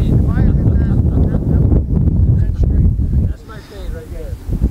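Wind blowing on an outdoor golf course, buffeting the microphone in low, rumbling gusts beneath men's close conversation.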